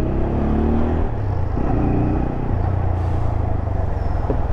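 A 2022 TVS Apache RTR 200 4V motorcycle rides along the road after its first service, its engine giving a loud, steady rumble with slight shifts in pitch as it accelerates, heard close up and without talk.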